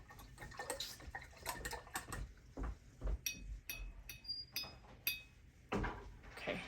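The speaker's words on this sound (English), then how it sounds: "I'm gonna rinse that out real quick" A paintbrush being rinsed in a water cup makes quiet, close splashes, taps against glass and drips, in short irregular bursts.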